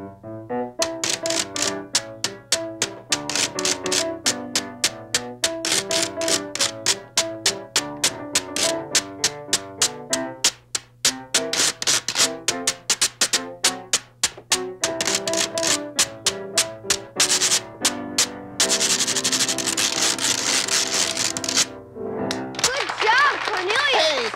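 Rapid metallic clacking and ticking of thimbles on a washboard in a busy rhythm alongside lively piano, loud and close, ending in a burst of sustained noise.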